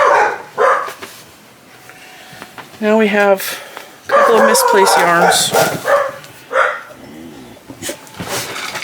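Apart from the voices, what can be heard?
dogs barking next door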